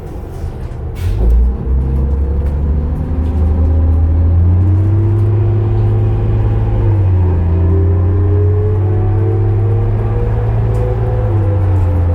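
A 2005 New Flyer D40LF Calgary Transit bus pulls away, its motor rising in a loud, close whirring drone that climbs steadily in pitch as it accelerates, with no talk over it.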